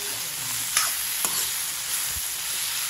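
Chicken chilli with capsicum fries in a pan over a high gas flame, giving a steady close sizzle broken by a few brief stirring scrapes and taps.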